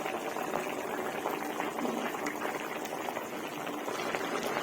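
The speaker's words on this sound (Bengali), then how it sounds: "এই যে ঝোল টকবক করে ফুটছে" A thick egg curry with yogurt bubbles and boils steadily in a pot, a continuous soft gurgling with no voices.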